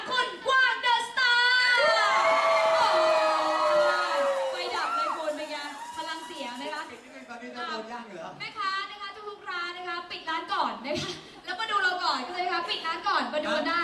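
A concert crowd at R U Ready Central, Chaengwattana, cheers, whoops and screams loudly and continuously, peaking in the opening seconds and then settling into a steady roar with shrill shouts. An announcer talks over the noise throughout.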